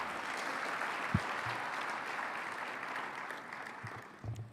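Sustained audience applause for the president of the Rockefeller Foundation at a debate event, a dense steady clapping wash across the whole clip that tapers slightly near the end.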